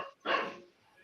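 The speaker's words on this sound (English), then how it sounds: "guests can have barking dogs, no problem" A single short dog bark, loud and near, with faint speech nearby.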